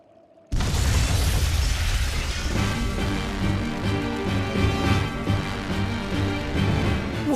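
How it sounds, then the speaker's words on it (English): Stores of flamestone, sulfur and oil explode in the Tales of Berseria game, a sudden loud boom that swells into a sustained roaring blast for several seconds, with a low droning score running beneath it. "Tools of flamestone, sulfur, and oil. Those will explode."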